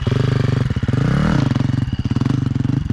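Motorcycle engine held on light throttle during a wheelie, a loud, close, pulsing mid-range drone that rises slightly in pitch midway and then settles back, with no talk over it.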